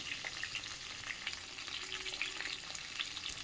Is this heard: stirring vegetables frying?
yes